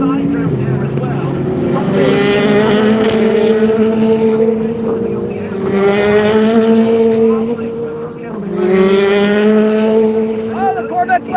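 GT3 race cars, a Corvette and a Mustang, roar past at Daytona with loud sustained engine drones rising and falling in pitch as they pass in waves, under continuous race commentary.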